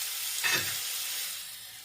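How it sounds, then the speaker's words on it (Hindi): Bread slices frying in a pan over a low flame, a steady close sizzle with a brief louder crackle as a slice goes in, no talking. "लो फ्लेम पे हम इनको फ्राई करेंगे।"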